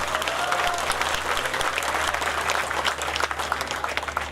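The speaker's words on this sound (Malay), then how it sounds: "satu tepukan gemuruh kepada beliau" An audience at a Malaysian entrepreneur outreach event in Raub, Pahang gives a thunderous round of applause, a dense, steady wash of many hands clapping at once, loud and continuous throughout with little talk.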